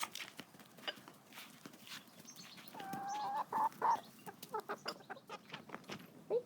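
Backyard hens clucking softly nearby while being brought treats, with short repeated clucks and a few longer, higher calls in the middle, moderately quiet.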